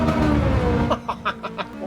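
A Ferrari F430 in the racing game Gran Turismo 7 rumbles low, then barks through a quick series of short, punchy revs, loud and close.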